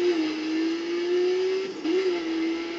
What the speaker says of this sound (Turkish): Arkadaşlar araba sesi